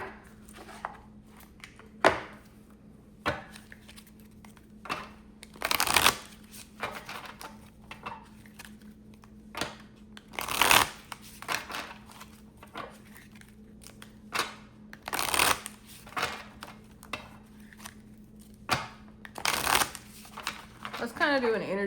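A tarot deck being shuffled, with repeated bursts of riffling card flutter every few seconds, fairly close, interspersed with softer handling rustle and a faint steady background hum.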